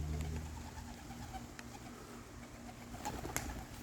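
Pigeons in a loft coo softly in low, repeated calls against a quiet background as rain begins, with a few faint clicks and rustles.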